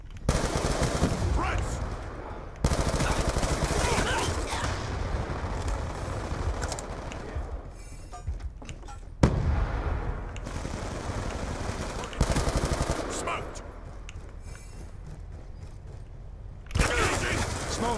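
Rapid gunfire from Call of Duty Black Ops 2, loud bursts of automatic shots with brief pauses between volleys, close and dense, with a player's voice talking over parts of it.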